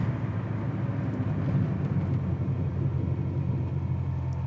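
A 1965 Ford Mustang Coupe engine runs while warming up, a steady low rumble that stays constant and fairly close throughout, with no voices over it.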